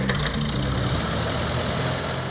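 A 1948 Farmall Super C tractor engine running steadily in Indiana, a continuous rough mid-pitched idle with a knocking rumble, loud and close, with no talk.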